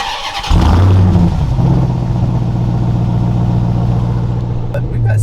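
A 2021 RAM TRX truck's 707-horsepower V8 fires up loud and close, settling into a deep, steady rumble.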